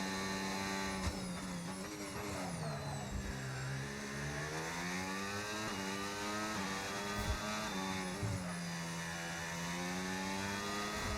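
Formula 1 car engine in a sim racing game at the Australia circuit, loud high-pitched whine rising and falling through gear shifts as the car accelerates, continuous and close.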